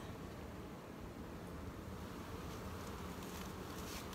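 Honeybees buzz steadily in a dense, even drone at an open hive, close and continuous, with no voices.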